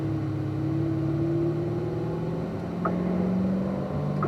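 A car pulls away on a track with a steady engine hum whose tones climb gradually and then shift, suggesting a gear change, heard from inside the cabin without talk.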